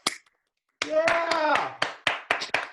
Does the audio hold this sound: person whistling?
no